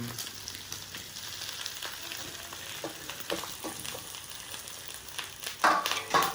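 Rice frying in a pan for burnt chicken fried rice, sizzling steadily with stirring scrapes and louder bursts of crackle toward the end, close up and with no voices.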